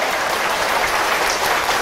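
An audience at a lecture hall applauding, a continuous even wash of many hands clapping at close range with no other sound.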